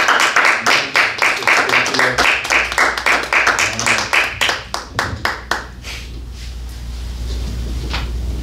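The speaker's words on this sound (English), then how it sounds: "Let us give the Lord a clap offering." A church congregation gives a clap offering, with loud, close, distinct hand claps in a quick steady rhythm that thin out and stop, leaving a low room hum.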